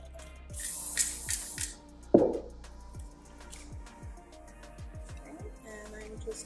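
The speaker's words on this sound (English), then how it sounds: "I like to spray them, that way they give me that tiny look" A short burst of fine spray mist from a spray bottle hisses close by onto plant greens, followed by a soft thump, with faint clicks and rustling in a quiet room.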